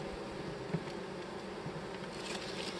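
Honeybees from a package being installed into a Langstroth long hive buzz softly and continuously, a faint steady hum with a few brief louder passes close by.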